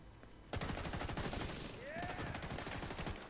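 Rapid automatic gunfire from The Division 2 video game rattles in dense repeated bursts, loud and continuous for several seconds, with other sounds mixed in.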